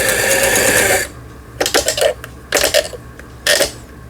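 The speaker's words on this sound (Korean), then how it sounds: "옷감의 가장자리에 박음질을 하는 오버록 바느질을 또 이렇게 하면 간격이 10개 나옵니다" A Lion Power 312 home sewing machine runs an overlock stitch along a fabric edge, one steady whirring run followed by three short clattering bursts, close and alone.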